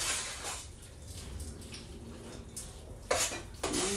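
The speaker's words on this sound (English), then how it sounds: "So now we're gonna stir it around because we want it to melt down in here." A spoon stirs macaroni and cheese around a pot on the stove, giving soft scraping and sloshing with a few sharper clinks toward the end. The sound is close and moderately quiet, with no talking.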